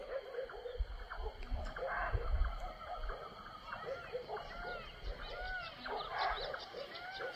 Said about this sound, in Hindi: ये देखिए, ये भौंक रहे हैं और इधर काकड़ बोल रहा है